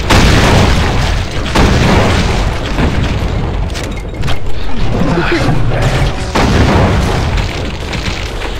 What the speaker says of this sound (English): Rocket launchers is too much fun.